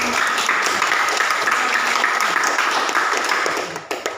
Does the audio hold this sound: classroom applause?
yes